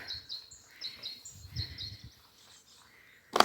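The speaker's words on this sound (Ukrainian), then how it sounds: "Пташки співають, бджілки гудуть дуже гарно." Faint birds chirp and tweet intermittently in the distance over quiet spring garden ambience, ending with a brief sharp knock.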